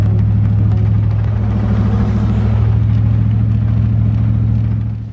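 A Land Rover Discovery V2.0 fitted with large coilovers, two-wheel drive only, runs close by on its first drive with a loud, steady low engine drone and rumble, easing off slightly at the end.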